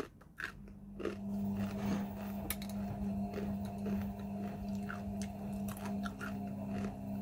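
Crunchy chips with chocolate being chewed close to the microphone during a lunch mukbang, soft repeated crisp bites over a steady low background hum.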